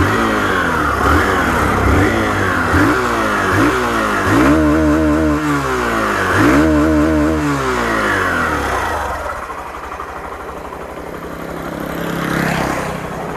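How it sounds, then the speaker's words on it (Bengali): A Hero Glamour BS6 motorcycle with a fuel-injected engine revs its exhaust close by in repeated rising and falling bursts, holding loud before easing to a lower idle near the end. "বাইকের এক্সস্ট নোটটা একবার শুনে নাও"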